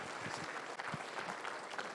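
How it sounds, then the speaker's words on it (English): An audience at a live event applauds Rory McDonald with a faint, steady wash of clapping that lasts about two seconds and carries no talk. "round of applause for Rory McDonald"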